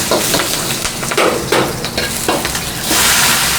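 Green onion stir-frying in sesame oil in a restaurant kitchen, a loud, steady sizzle with scraping stir strokes and a surge of hissing near the end, no talking.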